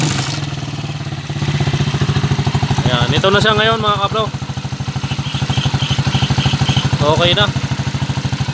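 A motorcycle engine runs at a steady idle throughout, a low rhythmic throb with a rough, mixer-like clatter, while someone talks over it close by.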